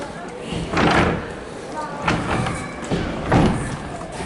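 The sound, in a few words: old tram door closing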